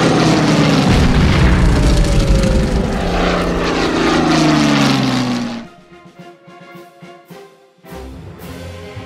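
Propeller aircraft on a bombing run in the WW2 strategy game Order of Battle, a loud sustained engine drone with falling pitch and booming impacts, then abruptly dropping to a quieter rumble with scattered thuds.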